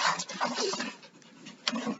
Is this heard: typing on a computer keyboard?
no